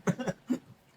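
A man gives a short burst of two or three quick coughs close to the microphone, followed by a softer trailing cough.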